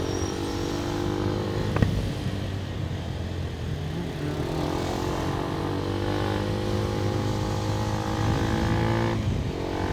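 A line of Bullet motorcycles rumbles through a crowded street during Diwali, steady engine drone throughout with a sharp knock or bump near two seconds and traffic hum around.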